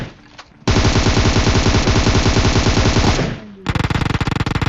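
In a mobile shooter game, a long burst of rapid automatic gunfire rattles loud and close, stops briefly, then resumes with a second clipped burst of shots.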